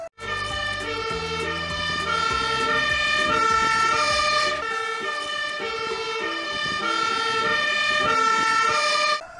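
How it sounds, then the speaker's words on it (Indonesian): A toy fire engine siren sounds close and loud in a continuous electronic wail that keeps looping, with a lower buzzing tone underneath that stops about halfway through. "Ini adalah mobil pemadam kebakaran."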